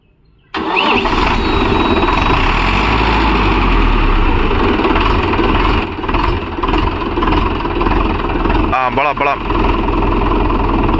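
A Mahindra Yuvo Tech Plus 585 4WD tractor engine starts and keeps running steadily up close, a loud, continuous mechanical rumble with people talking over it.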